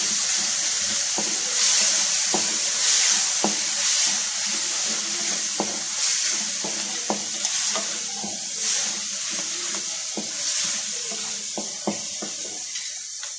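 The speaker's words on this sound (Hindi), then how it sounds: "इसके साथ ही इसमें टमाटर की ग्रेवी भी शामिल कर दें और इसको मिक्स कर लें" A spoon stirs okra curry with tomato gravy in a hot pan, with repeated scraping clinks against the metal at an uneven rhythm over a steady background sizzle, close and alone.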